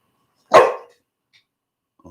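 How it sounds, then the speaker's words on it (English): Pet dogs barking indoors: one loud, close bark, then silence and a faint trailing sound at the end. "These dogs."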